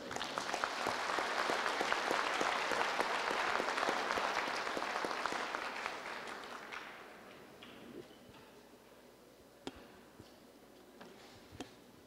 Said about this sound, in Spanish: a quien lo recibimos con fuertes aplausos